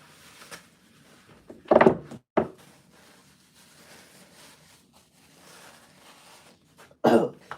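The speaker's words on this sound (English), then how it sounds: "I've been coughing." Two sharp coughs close together, then a single loud cough later, separated by quiet room noise and faint shuffling.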